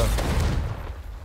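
Bombarda and Confringo spell blasts from Hogwarts Legacy go off in a quick burst of loud, close booms. The blasts fade away within about a second.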